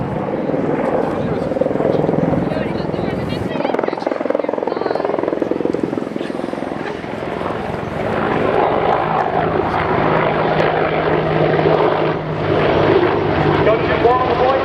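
Gunship helicopters performing an attack run in an air show display at RIAT 2015, with loud rotor and engine noise rising and falling throughout under a commentator's voice.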